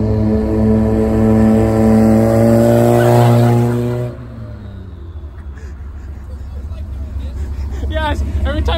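A Honda Civic hatch with a D15 engine and a giant HX55 turbo revs hard and climbs in pitch, then the note cuts sharply at a shift and settles into a lower rumble. Voices talk over it near the end.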